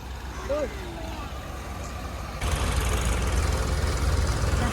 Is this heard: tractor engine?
yes